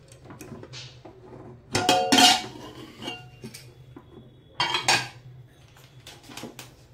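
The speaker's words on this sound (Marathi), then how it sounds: "झाकण काढून घेत आहे." A cooking pot lid is lifted off during sizzler brownie baking, giving two sharp metallic clanks of lid against pot with lighter clinks between them, set against a quiet kitchen.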